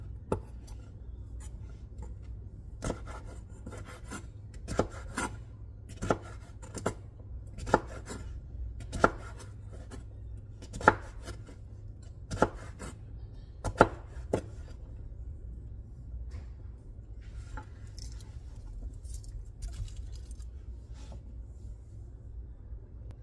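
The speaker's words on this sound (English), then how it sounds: "I cut my squash up" A knife chops squash (pumpkin) on a board, roughly a dozen sharp, close cuts at an uneven, steady pace over a low background hum, then the chopping thins out to a few faint taps, with no talking.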